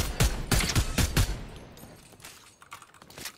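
Rapid gunfire from a Fortnite Chapter 4 match cracks in a quick burst of loud shots during the first half, then gives way to quieter clicks and faint game noise.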